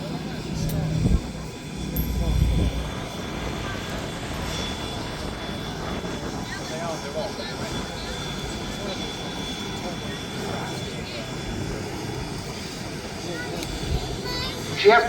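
B-17G Flying Fortress 'Sally B' at a Duxford summer air display, a distant droning piston-engine roar passing overhead under a public-address commentator's voice, swelling briefly near the start and end.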